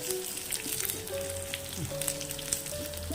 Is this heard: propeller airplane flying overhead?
no